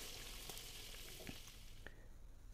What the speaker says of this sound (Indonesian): Ini kita goreng ayam, kita goreng sampai matang ya